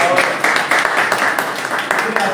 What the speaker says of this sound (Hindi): प्रभु का जोरदार ताली दें